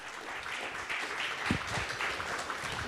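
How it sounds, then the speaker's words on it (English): Conference audience clapping for the event organizers, a soft, fairly distant patter of applause held at a low level throughout with no voices over it. "Can I get one more round of applause for the organizers and Zbyszek?"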